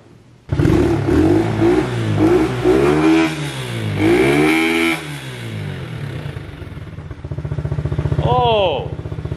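Coleman AT125UT mini bike with an upgraded carburetor and air filter, its small engine revving up and down in repeated loud swells, then settling to an idle before a final rev, close by with a voice in between.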